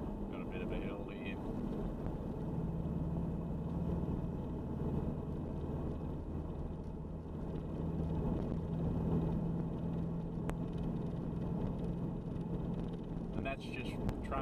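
A Nissan ZD30DI diesel engine in fourth gear, climbing a hill on a trailing, feathered throttle, gives a steady, loud low rumble with constant drone throughout, heard from inside the vehicle.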